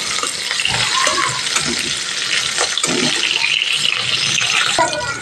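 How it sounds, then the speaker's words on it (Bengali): Pointed gourd pieces fry in hot oil, a dense, loud sizzle held close throughout, with occasional scraping as the pieces are turned. "এক পিঠ হয়ে গেছে, আর একটু উল্টিয়ে দেবো পটলগুলো। একটু ভেজে নিলে যে তরকারির স্বাদটা দ্বিগুণ বেড়ে যায়।"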